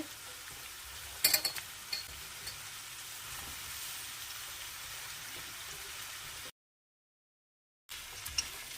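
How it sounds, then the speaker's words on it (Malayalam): Ginger, garlic and onion frying in oil, a steady close hiss of sizzling with a few utensil clinks early on, then a brief drop to silence before the sizzle resumes. "ഇഞ്ചി വെളുത്തുള്ളി സവാള എല്ലാം കൂടി ഇതിനകത്തേക്ക് ഇടുകയാണ് എല്ലാം ഇടുകയാണേ ഇതെല്ലാം എണ്ണയ്ക്കകത്ത് കിടന്നൊന്ന് വാടട്ടെ"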